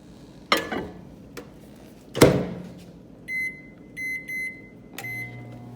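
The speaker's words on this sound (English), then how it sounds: "put it in the microwave for 2 minutes" A kitchen microwave oven finishes with a few short electronic beeps in a spaced pattern, preceded by two sharp door or button clunks and a quiet hum.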